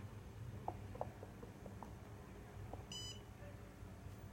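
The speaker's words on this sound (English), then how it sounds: "it detects the smoke, and it's started alarming the other nodes" A wireless fire alarm node beeps after its gas sensor detects smoke. Several short, faint beeps sound at a distance, with a brighter high chirp partway through.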